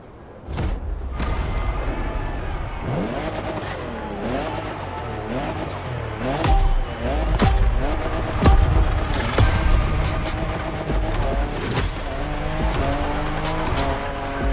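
A 2021 Toyota Super Drift Edition drifting in The Crew Motorfest, its engine revving up and down in wavering pitch sweeps while tires squeal in repeated sharp bursts, loud and close throughout.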